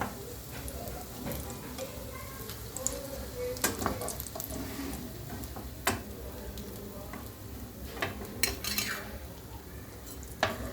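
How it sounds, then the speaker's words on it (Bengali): Fish chops frying crisp on both sides in a pan, a continuous close sizzle broken by scattered clinks and scrapes of a utensil against the pan. "দু পিঠ কুড়িয়ে নিয়ে মুচমুচে করে ভেজে প্লেটে তুলে নেব।"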